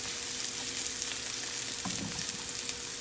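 Onion fries gently in a pan as a tacos de atún filling, giving a steady, soft hiss that lasts the whole stretch, with a brief stir near the middle and no voices.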